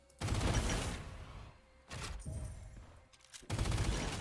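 Video game gunfire in three loud bursts of rapid shots separated by short pauses, close and dominant with no talk over it.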